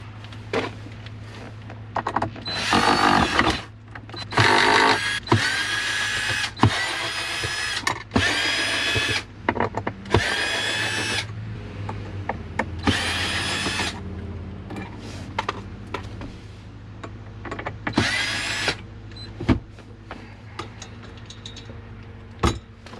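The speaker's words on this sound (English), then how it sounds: "I'm just going to take all these screws off." A power drill removes trim screws during a wireless charger install in a 2021 Toyota Tundra, with repeated short bursts of whirring close by separated by pauses and small clicks, and no talking.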